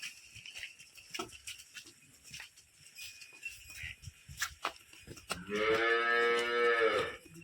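A heavy Nili-Ravi water buffalo at a farm lets out one long, nasal low near the end, following scattered shuffling and knocking sounds.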